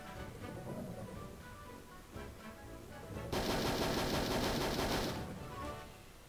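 Sustained machine-gun fire from the Hogs of War video game rattles loudly for about two seconds over a busy background of game sound.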